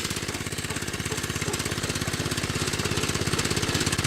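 A 1970 Rupp Roadster 2 minibike with front and rear suspension runs steadily with a fast, even small-engine putter, close and fairly loud, holding a constant idle-like pace throughout.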